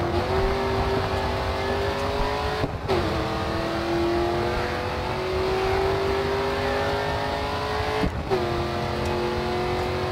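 Race car engine in GRID 2 held at full throttle, a loud continuous roar with steady rising harmonics, briefly dipping twice as gears shift, with no talk over it.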